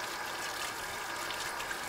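Hot water running steadily from a tap, a soft, even rushing hiss that stays faint and unbroken for a couple of seconds.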